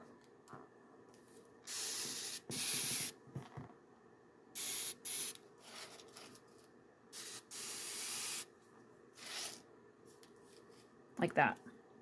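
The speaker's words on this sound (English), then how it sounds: "You take your spray bottle." Several short hissing bursts from a spray bottle, close and fairly loud, separated by pauses, with faint handling noises and brief movement near the end.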